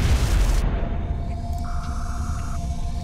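Fusion lance shots fired at a UFO in XCOM: Enemy Within: a loud, deep booming rumble that holds steady, with a brighter burst at the start and a thin tone layered on top, no voices.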